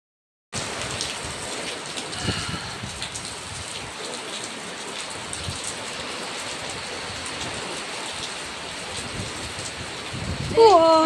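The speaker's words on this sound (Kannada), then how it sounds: "ಹೊರ್ಗಡೆ ಅಂತೂ ತುಂಬಾ ಮಳೆ ಬರ್ತಾ ಇದೆ ನೋಡಿ" Heavy rain pouring down outside a home: a dense, steady hiss of raindrops drumming on surfaces that starts abruptly and holds throughout, growing slightly louder at the end.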